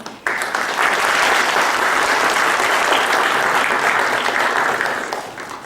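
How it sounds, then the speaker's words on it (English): A gallery audience breaks into applause, starting abruptly and holding as dense, steady clapping before tapering off near the end. "You all deserve a big round of applause."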